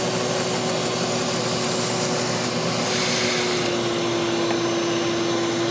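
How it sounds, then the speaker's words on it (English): A vacuum cleaner runs continuously at close range with a steady, loud whining drone and constant airflow rush, used to clean a network router, with no talking. "this is the only vacuum we have in the building"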